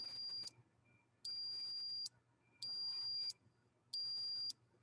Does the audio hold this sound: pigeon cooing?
no